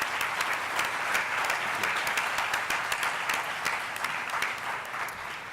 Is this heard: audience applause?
yes